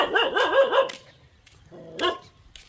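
Two bursts of dog barking, a ragged run of barks followed after a pause by a single bark, close and loud against faint background noise.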